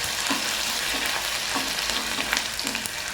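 Chopped garlic and ginger fry in hot oil, giving a continuous close crackling sizzle with faint periodic stirring knocks throughout and no speech.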